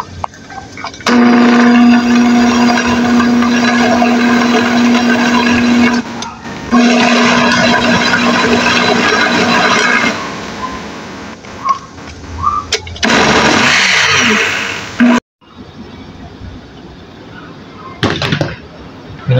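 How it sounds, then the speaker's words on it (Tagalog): Old kitchen blender whirring through adobo chicken and corned pastil, a loud steady motor hum that runs in bursts, stops, restarts and strains, with short pauses between runs. "At ito na, i-blender natin siya."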